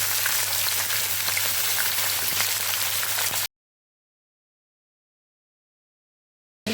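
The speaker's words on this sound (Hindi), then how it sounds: "इसमें ऐड करेंगे चिकन। इसे डालकर हमें अच्छी तरह से भून लेना है।" Chicken coated in garlic-ginger paste fries in a pan with a dense, even, rain-like sizzle for a few seconds. It then cuts to silence, and the sound returns briefly at the very end.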